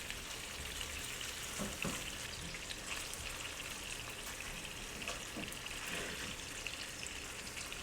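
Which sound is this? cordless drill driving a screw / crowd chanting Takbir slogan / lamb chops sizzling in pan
lamb chops sizzling in pan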